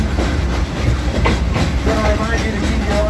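The Frisco Silver Dollar Line steam train rolls along its rails at an amusement park, a steady loud rumble with rhythmic clicking of wheels over track joints and faint squeals, heard from on board.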